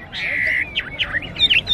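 A songbird offered for sale at a rural highland market in northwest Vietnam sings close by, with a rapid series of bright chirps, whistles and squawks over faint market background.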